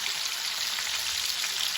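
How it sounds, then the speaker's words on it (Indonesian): Tofu frying in hot oil until crispy, a steady dense sizzle and crackle that holds at an even level throughout, close by with no voices. "Goreng tahunya sampai garing"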